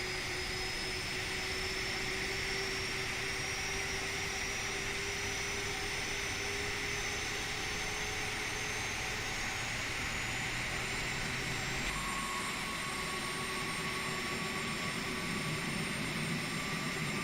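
Boeing 737 Classic engines drone in a flight simulator game, a steady loud cockpit roar with whining tones that shift slightly partway through, continuous with no talk.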